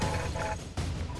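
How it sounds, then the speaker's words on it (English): Weapon fire in Call of Duty Black Ops Cold War: two loud, close bursts of rattling gunshots and bangs, with a brief gap between them. "the rattle and bang of firing your weapon"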